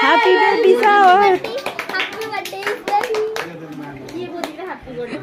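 Hand claps ring out at a baby shower, a burst of sharp, close claps mixed with lively chatter and children's voices, continuing in scattered bursts as people talk.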